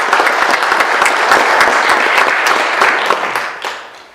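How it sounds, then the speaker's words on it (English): A dense round of applause from an audience at a council meeting in Cherokee Village, Arkansas, loud and steady for about three seconds before thinning out and fading. "I'd like to give you guys a round of applause."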